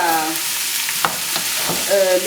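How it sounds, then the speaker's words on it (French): Cucumber, zucchini and eggplant fry in oil for a tofu ratatouille, giving a loud, continuous close sizzle with stirring scrapes and faint tonal sounds in the background. "Concombre, courgettes et aubergines. Nous les faisons revenir dans l'huile"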